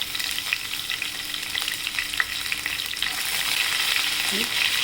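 Cumin seeds and green chilies, added after mustard seeds, sizzling and spitting in hot oil for masala idli, a dense crackling hiss that swells louder toward the end, close and with no talking.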